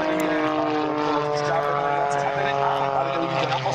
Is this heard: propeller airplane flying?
yes